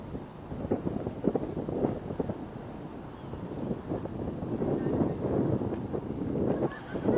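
Wind buffeting the microphone at high elevation on Tioga Pass, a continuous rough, gusty rumble with faint honk-like sounds scattered through it.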